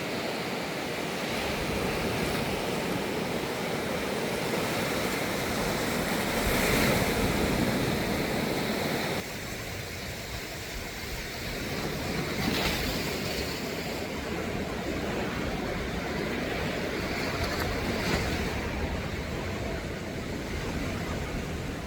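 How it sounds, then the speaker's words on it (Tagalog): Ocean surf rolls continuously onto a beach in Palawan, a loud, steady wash of breaking waves with gusts of wind buffeting the microphone and a brief dip in intensity partway through. "Grabe ang calming ng dagat, nakaka-relax, nakakagaan ng loob."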